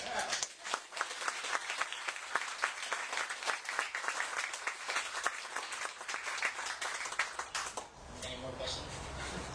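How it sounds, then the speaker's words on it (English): An audience claps steadily through a presentation for several seconds before the clapping thins and fades out near the end; a voice can be heard faintly beneath it. "somebody give this guy a big clap"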